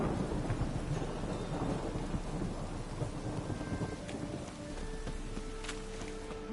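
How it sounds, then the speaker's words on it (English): A thunderstorm in a PS4 video game: dense, steady rain hiss with deep rolling thunder rumbling underneath, continuous and full throughout, with no speech. "A storm, damn it."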